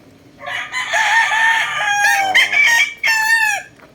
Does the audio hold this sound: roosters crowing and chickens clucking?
yes